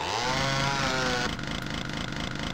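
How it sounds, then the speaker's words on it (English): A chainsaw weapon in the shooter game Doom 2 revs with a steady buzzing drone, rising in pitch and then settling into a rough idle, loud and alone. "I don't know why I got the chainsaw out."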